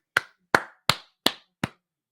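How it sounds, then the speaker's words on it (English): Five sharp, evenly spaced hand claps ring out close and clear, each a crisp isolated smack with a short decay, followed by a brief silence. "We're going to clap for my man, David."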